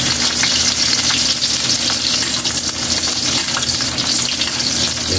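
Garlic frying in hot oil in a pot, a dense, continuous sizzle with crackling spatter, loud and close, with a faint stirring scrape and no talking.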